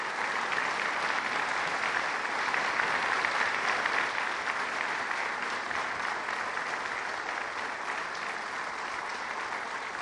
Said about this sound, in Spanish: Yo quiero pedir un aplauso especial para la fuerza pública